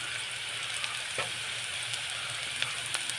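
Leftover fried fish and chicken frying in a pan with garlic and onion, a steady close sizzle with small crackles and pops, no talking.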